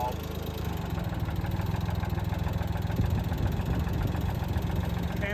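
A Ford 2600 tractor's diesel engine running steadily at idle, a loud, even low chugging throb with a faint knocking patter throughout and no speech.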